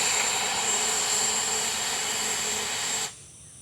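A Freewing Ares 8S 90mm RC jet roars loudly and steadily as it applies reverse thrust on landing, the sustained whine dropping off abruptly at the end.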